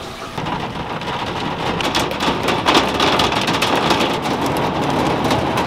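Heavy rain pours outdoors during a rainstorm, a loud dense hiss of drops hitting surfaces with bursts of crackly spatter, steady throughout and with no talk.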